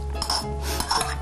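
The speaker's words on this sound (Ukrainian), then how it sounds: "беремо ложечку, промиємо його, вигрібаємо в каструльку" A small spoon scrapes and clinks against a metal saucepan while scooping rinsed, wet millet into it, giving a few soft scraping knocks close by with quiet kitchen background.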